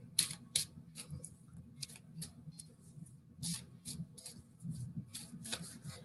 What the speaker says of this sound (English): I'm going to go ahead and shuffle the romance cards